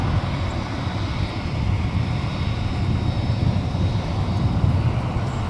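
A Boeing 767-300 arriving on runway 12 right at Minneapolis–St. Paul Airport, heard as a steady, loud jet engine roar with a heavy low rumble that holds constant throughout and has no voices over it.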